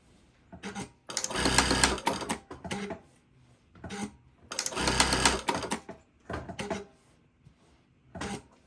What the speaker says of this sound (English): it cuts the thread automatically and lifts the presser foot up as well